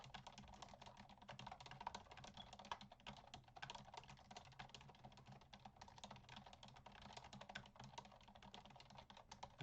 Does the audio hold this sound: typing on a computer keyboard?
yes